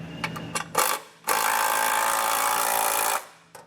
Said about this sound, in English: what I'm going to do is come back with an 11/16 and tighten it down just to kind of draw the hitch up